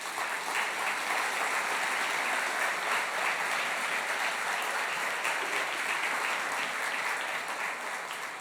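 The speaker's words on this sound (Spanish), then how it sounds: "lo recibimos con un caluroso aplauso" A crowd applauds steadily and warmly for several seconds at a university academic-year opening ceremony, a dense wash of clapping that holds its level throughout.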